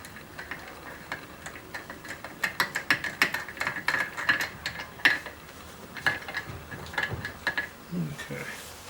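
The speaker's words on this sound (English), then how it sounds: "You got your 22mm socket. Put your nut back on." A ratchet fitted with a 22mm socket tightens a nut on a Silver Wing 600 scooter, giving quick runs of light mechanical clicks in bursts, close and moderately loud, with brief pauses between strokes.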